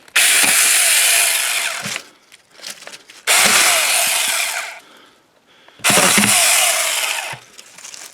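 A power saw cuts limbs off dried applewood in three loud, close bursts of about two seconds each, separated by brief pauses with quieter handling sounds.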